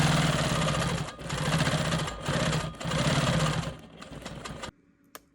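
Close-up sewing machine doing free-motion quilting on a Dutchman's puzzle block: rapid steady needle chatter runs in bursts with short pauses between, then stops, leaving near silence with a faint click.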